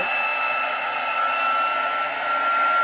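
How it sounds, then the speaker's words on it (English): A heat embossing tool blows hot air over embossing powder on a handmade gift box, giving a steady, close whirring hiss with a faint high whine. The sound holds constant for a few seconds with no voices. "Heat emboss it."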